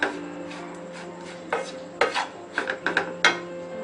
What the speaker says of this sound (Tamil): அடுப்பை அணைச்சிட்டு மிக்ஸ் பண்ணுங்க.